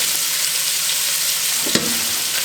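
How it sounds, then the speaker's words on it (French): Small pieces of sausage fry in a tablespoon of olive oil for a one-pot pasta, giving a steady, close sizzle throughout with one brief utensil clack near the end. "on vient la couper en petits morceaux. Donc on l'a mis dans une cuillère à soupe d'huile d'olive."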